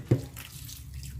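Running tap water washes bean sprouts in a sink, a soft steady trickle with one brief louder splash near the start, close and faint.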